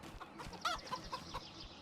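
Chickens cluck in the Farming Simulator 25 video game, a few faint, scattered clucks and short calls over a soft background.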